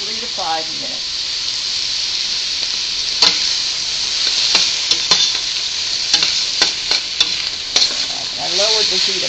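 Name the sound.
stirring vegetables sizzling in pan for minestrone soup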